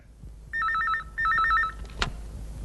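A telephone in a Telugu film scene rings in two warbling electronic bursts, clear and close, followed by a sharp click as the handset is picked up.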